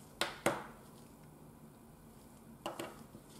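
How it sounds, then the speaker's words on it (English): Highly pigmented nail gel getting a quick stir in its small pot: two light taps and scrapes at the start, a quiet pause, then two more near the end, faint and close up. "Sometimes if you don't use this product for a while, it's good to give it a quick stir, just to mix all the pigments correctly."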